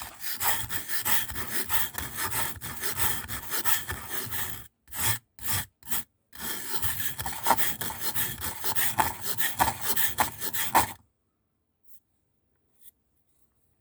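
Scissors blade ground by hand with oil on a sharpening surface, a steady rasping rub in repeated strokes for about eleven seconds, broken by a few short pauses, then silence with two faint ticks.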